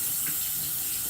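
Water runs steadily from a kitchen tap into a bowl being washed out after making a dessert, a continuous close hissing stream.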